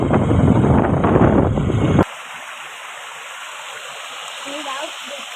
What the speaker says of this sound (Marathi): बघा मित्रांनो किती छान छोटासा एक धबधबा आहे